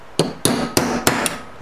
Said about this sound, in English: Hammer on it like that.